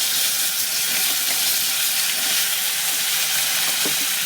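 Potato and papaya pieces sizzle and fry steadily in a hot pan, a continuous hissing crackle with no voices, close and even throughout.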